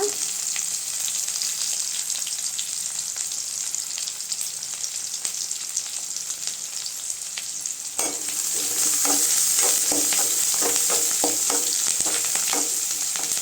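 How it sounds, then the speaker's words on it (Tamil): Onions and green chilies fry in a pan for wheat rava kichadi, a steady loud sizzle that grows brighter midway as a spoon stirs and scrapes through the pan in repeated strokes. "வெங்காயம் பச்சை மிளகாய் நல்லா வதங்கட்டுங்க."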